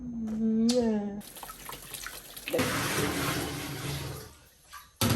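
Tap water runs steadily and splashes while a child's hair is washed, following a brief voice at the start and carrying on close and moderately loud until it cuts off near the end.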